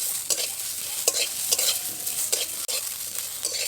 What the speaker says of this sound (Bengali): খুব ভালোভাবে এবার নেড়ে নেব